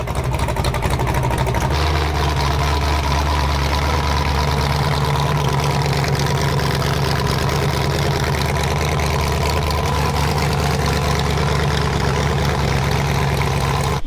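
A car engine idles and rumbles steadily as the car is pulled into a body shop, a loud continuous low drone with no talking.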